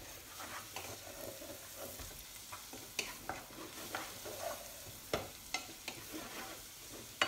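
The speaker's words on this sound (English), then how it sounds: "I keep stirring it" Fusilli pasta is stirred in a pot of boiling salted water, giving soft scraping and bubbling with sharp clinks of the spoon against the pot at irregular intervals, close and fairly quiet.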